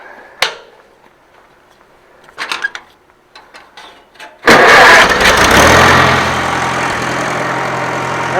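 A 1948 IH Farmall Cub tractor, just fitted with a new fuel bowl, gives a few faint clicks and knocks, then its engine catches abruptly and settles into a loud, steady idle close by.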